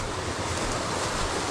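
Water of Fox Creek flowing at the bottom of a climb on a hiking trail in Virginia, a steady broadband rush with no pauses, fairly loud and up close.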